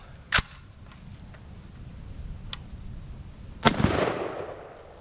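Rifle shots from a 5.56 / .223 rifle: a loud sharp crack near the start, a fainter report midway and another crack followed by a rolling echo toward the end, with no talking.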